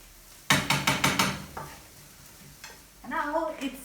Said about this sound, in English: now let's put them with the onions. Let's stir it.